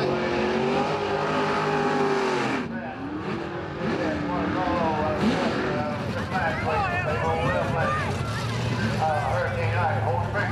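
Chevrolet Monte Carlo G-body cars drag racing head to head, loud engine roar and revving throughout with shifting pitch, crowd voices and talk mixed in underneath.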